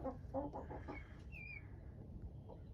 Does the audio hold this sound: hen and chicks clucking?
yes